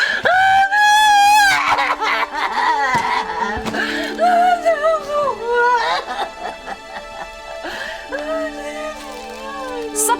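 A woman lets out high, wavering shrieks and screams, loud and close, broken by shorter cries and whimpering sounds over several seconds.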